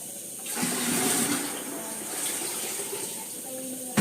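Water runs from a tap at home to fill a container, making a steady rushing gush that swells and then settles at an even level for a few seconds.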